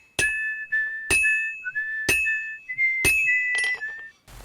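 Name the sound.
whistling in video game Kingdom Come Deliverance 2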